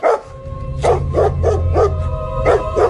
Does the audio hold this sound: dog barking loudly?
yes